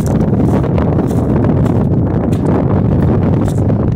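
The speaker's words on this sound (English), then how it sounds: "Windy out here today." Strong wind blows on a riverbank shoreline near the mouth of the Elizabeth River, a constant loud rumbling buffet across the microphone with gusty rustling swells and no clear voices.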